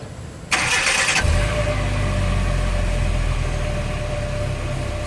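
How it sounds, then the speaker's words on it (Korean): A 2002 Hyundai Avante XD engine cranks with a short burst, then catches and settles into a steady, loud low idle rumble right after its muffler has been reassembled. "그리고 이제 앞에 가서 시동을 걸어줍니다."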